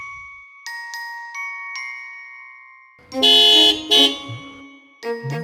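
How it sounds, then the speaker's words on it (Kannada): A vehicle horn sounds loudly: a few short toots, then a long blaring blast, a second burst and another honk at the end, with nothing else around it. "ಎಷ್ಟು ಜೋರಾಗಿ ಹಾರ್ನ್ ಹೊಡಿತಾ ಇದಾರಲ್ಲ"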